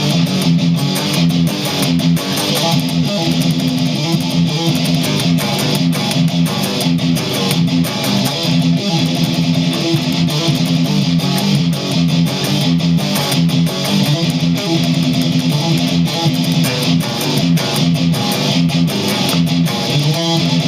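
The ending section of a rhythm guitar part is played fast on distorted electric guitar, moving through power chords and other chords. The riffing is dense and continuous at a steady loud level, with no voices.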